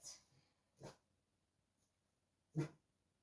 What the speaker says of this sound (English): That's what he's barking for.